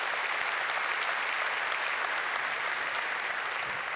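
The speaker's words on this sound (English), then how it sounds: "let's give a huge round of applause to all the speakers out here." A conference crowd at GFM2015 applauds its speakers with thick, continuous clapping that holds at an even, loud level throughout and never breaks.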